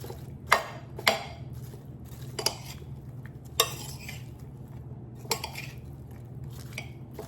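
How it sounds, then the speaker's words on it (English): A utensil stirs onions coated in Dijon mustard in a pan, giving a few sharp metallic clinks and scrapes spaced over a low, steady background, with no one talking. "Then you just give it a mix."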